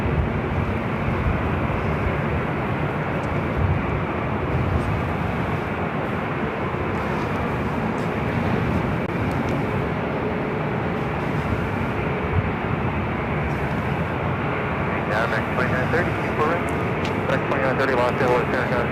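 An Airbus A380 landing on runway 24 right at LAX, heard as a loud, steady broadband roar that persists without pause, with people talking over it.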